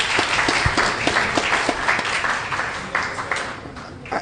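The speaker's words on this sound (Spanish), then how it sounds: "un aplauso para ese grupo" An audience claps for a group at a humanitarian local-agenda gathering, the dense, steady applause running through the whole stretch and fading slightly near the end.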